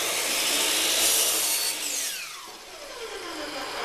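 A saw cuts through wooden trim molding with a loud, bright, continuous rasping grind that shifts in pitch as the blade works through the piece, close and without talk.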